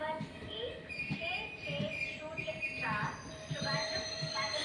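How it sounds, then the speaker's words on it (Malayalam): A passenger train bound for Palani rumbles along steadily with rhythmic wheel and carriage noise and occasional faint squeals. Voices murmur in the background. "ഇപ്പോഴാണ് നമുക്കിങ്ങനെ ഈ പഴനിയിലോട്ട് നേരിട്ടുള്ള ട്രെയിനിൽ നമുക്ക് പോകാൻ പറ്റുന്നത്"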